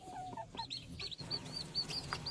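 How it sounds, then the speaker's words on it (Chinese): Young chicks sheltering under a mother duck in cold, rainy farmyard weather give repeated high, thin peeping calls, several short chirps in a loose rhythm, fairly faint and close, with no talking. "我听到小鸡的叫声呢"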